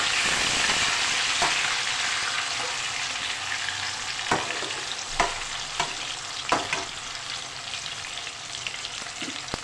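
Steady close sizzling of eggplant frying in a hot pan, with occasional soft clicks and stirring taps over the hiss.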